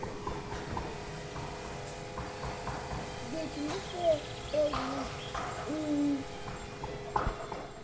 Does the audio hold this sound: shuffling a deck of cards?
no